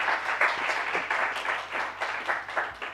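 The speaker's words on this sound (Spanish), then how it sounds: "Un aplauso." Audience applause at a conference oral presentation session, a short burst of dense rhythmic clapping from a roomful of listeners.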